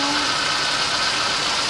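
The engine of a 1989 Oldsmobile Cutlass Supreme, which has an odd knock, runs close and loud as a steady mechanical hum with a faint tapping texture, heard alone.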